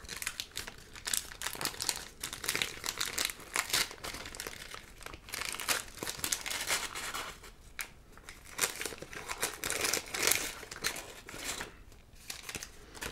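The paper wrapper of a McDonald's hash brown is crumpled and crinkled up close in continuous irregular bursts of crackling for the whole stretch, with no talk.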